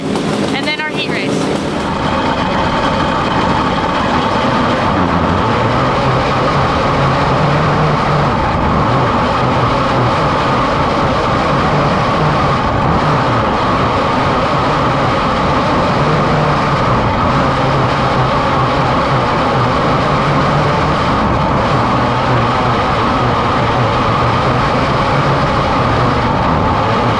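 Race cars roaring around a dirt oval at the Red Bluff Outlaws West Coast Nationals, a loud continuous engine drone sustained throughout with no break.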